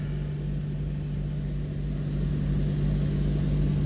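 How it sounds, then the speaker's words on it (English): Automated car wash dryer blowers roar as a steady, loud broadband rush with a constant low hum, holding unbroken and slowly swelling slightly louder toward the end, with no voices. "I didn't have one of these blowers at home."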